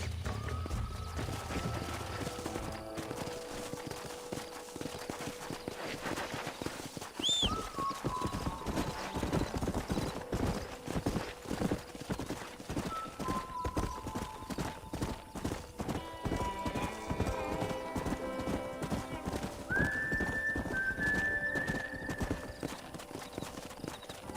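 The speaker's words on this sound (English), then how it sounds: "We got some fine horses." Horses in the Red Dead Redemption video game trot with steady clip-clop hoofbeats and neigh now and then, the hooves running continuously while whinnies and game music tones rise over them.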